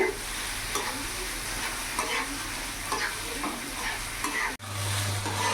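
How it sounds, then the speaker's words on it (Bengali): Spices with chopped tomato and mustard-poppy paste fry in a pan for a small-fish chorchori, sizzling steadily under repeated stirring and scraping, with a brief break near the end. "কিছুক্ষণ মশলাটা ভাজা ভাজা করে নিয়েছি"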